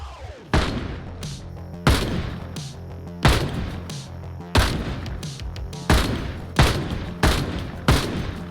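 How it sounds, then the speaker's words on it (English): Gunshots fired at zombies in the game Project Zomboid, about ten loud, sharp reports spaced roughly evenly around a second apart, each with a short decaying tail. "at a rate of 3 shots per zombie, this is going to be a little tight to try and hit 300"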